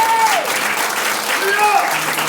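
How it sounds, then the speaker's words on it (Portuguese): A church congregation at a Portuguese-language prayer house applauds, a dense steady wash of clapping across the whole moment, with faint voices and a few tonal sweeps mixed underneath. "Aplauda Jesus."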